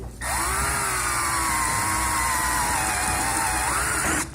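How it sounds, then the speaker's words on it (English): A power drill bores into a BMW E46 intake F connector held in a vise, making a loud, continuous whine that holds steady for about four seconds, then rises briefly and stops abruptly. "set her up in the vise and begin the drilling process"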